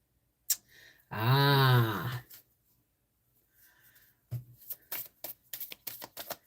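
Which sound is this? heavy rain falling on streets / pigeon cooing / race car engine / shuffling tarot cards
shuffling tarot cards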